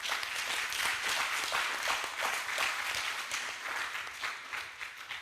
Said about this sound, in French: j'aimerais bien qu'on les applaudisse, s'il vous plaît.